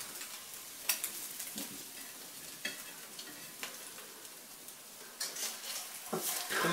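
Quiet, steady sizzling of an egg frying in a pan, with occasional louder pops and crackles.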